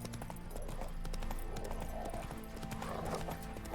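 Roach, a horse in The Witcher 3, gallops with steady, rapid hoof clip-clops, close and continuous, carrying a brief whinny over a low ambient game background.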